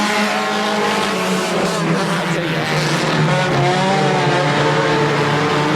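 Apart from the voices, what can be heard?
dirt race cars racing at Airborne Speedway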